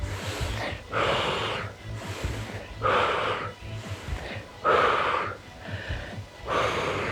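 Deep, forceful breaths come in and out during an upper-body fitball and weights workout, a slow regular cycle of about four loud, close exhales with rushing inhales between them.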